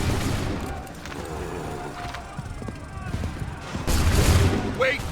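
Musket volley fired by soldiers in Assassin's Creed 3, crackling gunfire and battle din with a louder burst of shots near the end, under shouted commands.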